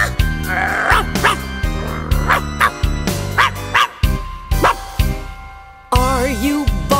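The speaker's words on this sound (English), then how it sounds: "Are you barking?" A small dog barks and yips several times in quick bursts, close and loud, over a musical background in a children's Halloween song setting.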